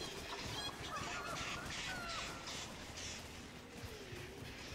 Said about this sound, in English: Birds going crazy.